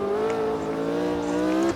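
Race car engine in Automobilista 2, a 1969-era car, holding a strained, steady revving tone that drops slightly as it shifts, then cuts off sharply at the end.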